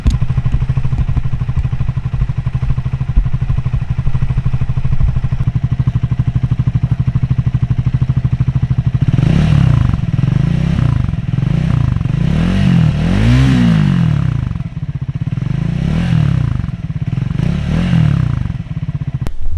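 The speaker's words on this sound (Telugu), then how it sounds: "So that's all about the exhaust note of this bike." A Triumph Scrambler 400 motorcycle's exhaust burbles at a low, steady idle for several seconds, then rises through a series of sharp throttle blips and revs that surge and fall back, loud and close.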